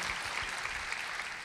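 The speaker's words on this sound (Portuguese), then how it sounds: "Você pode dar uma salva de palmas aí" Steady applause from a crowd, a dense wash of clapping that holds at an even level throughout, with no voices standing out.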